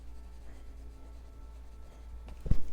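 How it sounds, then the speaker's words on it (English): Colouring pencil worked directly onto paper for a festive colouring page, giving faint, soft scratching strokes close to the microphone, with a sharper tap or scrape near the end. "I'm just going to color right onto the paper"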